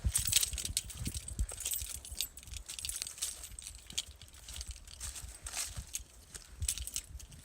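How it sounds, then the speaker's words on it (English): Car keys for a Hemi 5.7 Jeep Grand Cherokee Limited 4x4 jingle close by as they are picked up off the ground, a light metallic rattle over faint outdoor background noise. "Keys off the ground."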